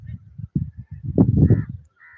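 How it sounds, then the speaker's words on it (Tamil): Low, nasal honking calls like geese or ducks repeat in a loose sequence, close and fairly loud, building into a denser cluster of honks. "எத்தனையோ வகையான பறவைகள் இங்கே வந்து செல்லும்"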